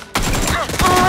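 Rapid bursts of gunfire from the battle royale video game PUBG (Battlegrounds) crack loudly for about a second after a brief quiet start.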